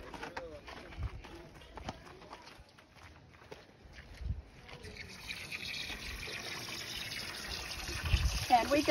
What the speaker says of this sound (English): I rinse it real good. I slosh it. I dump it.